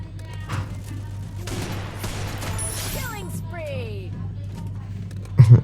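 Desert Eagle and sniper shots in the Free Fire video game sound as a burst of rapid gunfire, followed by sweeping tonal game effects and a couple of heavy thumps at the end, all under a speaking voice.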